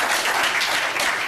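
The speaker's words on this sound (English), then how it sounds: "it's one thing to clap and everything" An audience claps in a dense, continuous burst of applause, close and fairly loud, with no gaps over its short span.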